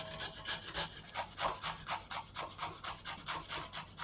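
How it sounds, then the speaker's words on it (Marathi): A bottle gourd is grated by hand on a grater, a rapid regular series of rasping strokes, about four per second, close and fairly quiet, with no talking. "आता आपण या लौकीला किसून घेऊया"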